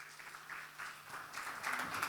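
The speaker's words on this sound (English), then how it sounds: "Can we have a huge round of applause for Abhishek?" Applause from a panel audience at a CHRO Confex 2026 session on ESOPs, a soft, fairly distant wash of clapping that grows a little louder toward the end.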